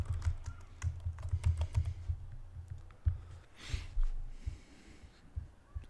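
Fingers type a file name on a computer keyboard in a close series of irregular clicks and taps, with a soft breath and a brief rustle partway through.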